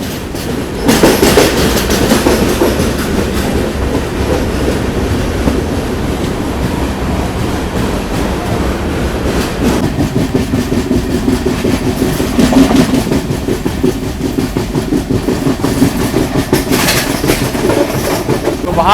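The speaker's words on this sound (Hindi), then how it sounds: "करमाली स्टेशन निकला है और वापस से टनल आ गई यहाँ पर।" Konkan Kanya Express passenger train running past Karmali station and into a tunnel, heard from on board: loud continuous rumbling with rhythmic clickety-clack of wheels on rails and a swelling roar as it enters the tunnel.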